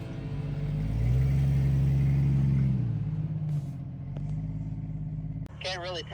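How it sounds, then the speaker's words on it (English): Jeep engine rumbling and revving as it climbs a rock crawling hill, tires briefly spinning near the top; steady low drone that swells then settles, with a voice speaking near the end. "as I get to the top here, I start to spin the tires just a little bit"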